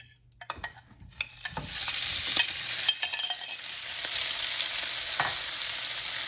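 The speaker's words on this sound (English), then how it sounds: "When the oil is hot, we add the shrimp." Shrimp drop into hot oil for Hong Kong-style scrambled egg, a few clicks and taps before a sizzle bursts up and holds steady, close and fairly loud, with scattered pops.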